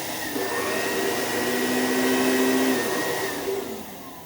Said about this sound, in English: see if it turns on. Oh, wow.